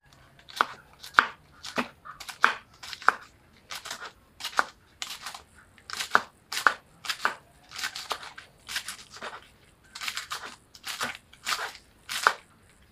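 Young winged beans (chathura payar) are chopped finely with a knife on a board, producing a steady series of crisp, close knocks, about two per second, with no talk.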